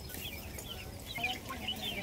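Native country chickens clucking close by in a busy yard, a scatter of short squawks and chirps over steady rustling background noise.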